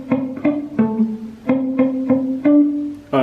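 A palm-muted guitar plays the BTS Pied Piper riff, short choppy plucked notes in an uneven repeating rhythm, close and clear, with no talking.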